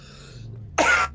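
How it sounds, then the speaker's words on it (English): A single sharp cough near the end, loud and close, following a quiet stretch with faint game background tones. "Oh, that was a cough."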